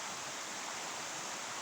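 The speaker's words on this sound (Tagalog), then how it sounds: "Mini falls." A small waterfall at Kawayan Falls in Quezon gives a steady, even rush of falling water, close and continuous with no voices.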